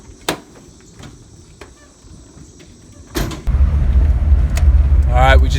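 An early 1985 Toyota Land Cruiser FJ60 pickup pulls away after a quiet stretch, its engine rumble rising suddenly and staying loud and steady, with a faint rising whine near the end.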